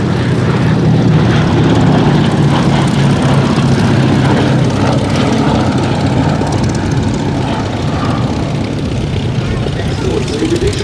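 Boeing B-17G Flying Fortress propeller engines droning steadily in flight at Duxford Air Festival, a continuous loud rumble throughout, with a voice talking over it.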